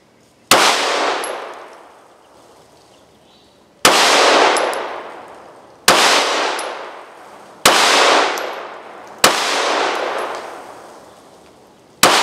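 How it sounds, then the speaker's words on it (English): Five loud 9mm pistol shots, firing 80-grain cast zinc bullets into ballistic gel, each a sharp crack trailing into a decaying ring, spaced about two to four seconds apart with no talking. "shoot a couple of them into the ballistic gel"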